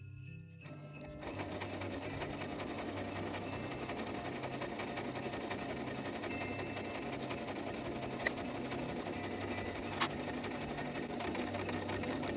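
A sewing machine stitches fabric for a handmade Christmas ornament, starting after a brief pause and then running in a steady, fast, close mechanical whir with a couple of small clicks.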